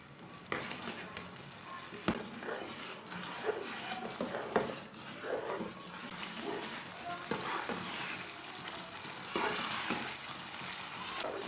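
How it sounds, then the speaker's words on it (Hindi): Semolina and egg halwa cooks in a pan while a spoon stirs it, a quiet, soft sizzle with repeated scraping strokes and light clinks. "इसे चम्मच चलाते हुए पकाना है।"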